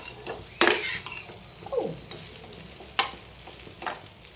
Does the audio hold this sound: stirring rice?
yes